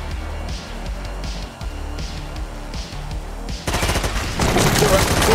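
Rapid automatic gunfire from the side-scrolling shooter Gunsaw, with bursts of shots over a low game soundtrack that grow denser and louder toward the end, heard alone without talk.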